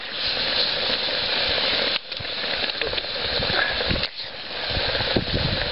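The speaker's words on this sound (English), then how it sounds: "That is boiling water and boiling seeds." Water and seeds boiling inside a pumpkin over an open fire, a continuous crackling, sizzling bubble with brief dips in loudness, close by.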